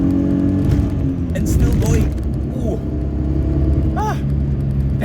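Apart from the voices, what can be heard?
2004 Perodua Kancil engine accelerating while driving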